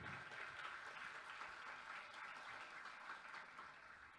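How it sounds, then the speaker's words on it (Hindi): Applause for mentor Laxman Bhau at a trophy inauguration ceremony for the Wakad Premier League cricket tournament, Season 6, a steady, fairly faint wash of many hands clapping throughout, with no speech over it. "तो एक बार जोरदार तालियां होनी चाहिए हमारे प्रेरणा स्थान और मेंटोर"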